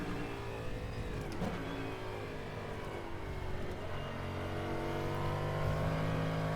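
A prototype race car in the rFactor 2 sim roars at a steady high pitch near its gear limit, holding a sustained, loud engine drone throughout with slight rises in tone.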